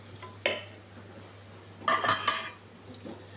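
Brown rice being mixed by hand with a spoon to break up lumps: a single clink, then a brief burst of utensil scraping and clattering against a pot, with a faint hum between.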